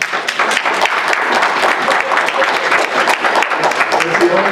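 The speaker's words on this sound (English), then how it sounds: "It's the only time you get to clap." An audience at a State Election Board meeting breaks into loud, sustained applause, a dense and steady patter of many hands clapping close by, with no pauses across the whole stretch.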